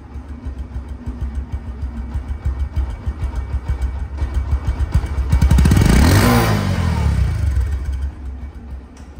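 A Bajaj Discover 125cc motorcycle in showroom condition idles with a close, even putter, then swells into one strong rev before easing back down.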